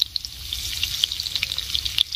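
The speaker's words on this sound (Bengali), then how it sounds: "এবার আলুগুলো আমি ভেজে নেব।" Potatoes fry in hot mustard oil in a wok, giving a loud, close sizzle with a steady crackling bed and scattered sharp pops and spatters throughout.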